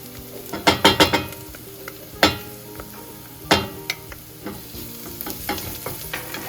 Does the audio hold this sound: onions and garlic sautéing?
yes